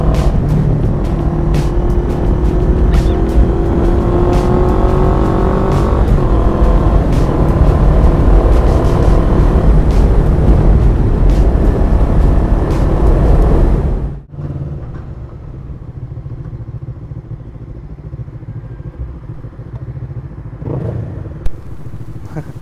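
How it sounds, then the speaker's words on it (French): A Honda CB500S motorcycle engine revs loudly and close for about fourteen seconds with rising and falling throttle, then cuts off abruptly, leaving only quiet background noise. "Tu donnes un petit coup de gaz et hop, allez."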